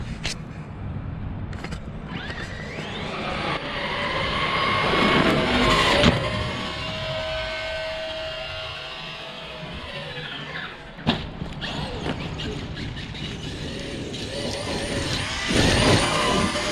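A Traxxas XRT RC truck drives outdoors at a hobby track, its electric motor whining as it revs up and fades with speed changes, with tire scrubbing and sharp skids breaking through.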